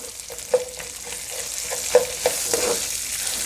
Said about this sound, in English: I'm adding 2 teaspoons of jeera and 1 teaspoon of Asafoetida, Hing